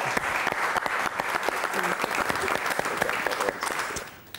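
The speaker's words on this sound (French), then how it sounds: "Bravo Philippe, on peut vous applaudir une nouvelle fois" A studio audience on a French TV word-and-numbers game show applauds warmly, with dense, steady clapping that tapers off at the end and faint voices underneath.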